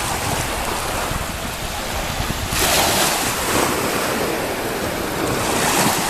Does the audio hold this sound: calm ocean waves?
yes